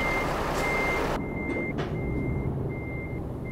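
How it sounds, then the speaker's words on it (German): Reversing alarm of a truck in Euro Truck Simulator 2 multiplayer: a steady series of evenly spaced electronic beeps repeating over a continuous engine and road hum, with a brief hiss partway through. "ich fahre ich mal eben mit Warnblinker rückwärts"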